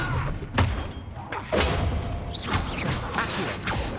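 Casting Expelliarmus in the Hogwarts Legacy video game during combat: a quick whoosh followed by dull thuds and impacts, layered over a busy battle ambience, with several distinct hits and swishes and no speech.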